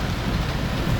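Stormy rain pours down in the Bhimber area, a steady, dense hiss that runs unbroken and fairly loud throughout, with no voices.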